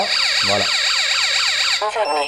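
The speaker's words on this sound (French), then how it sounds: "l'alarme s'est activée" An ABTO home alarm kit siren sounds loud and close, a rapid warbling electronic wail that holds steady before shifting pattern briefly near the end.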